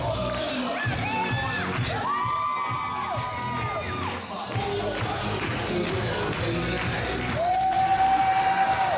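A Hamilton wrestling crowd cheers loudly and continuously, with whoops, shouts and high children's screams mixed into a dense, roaring arena din.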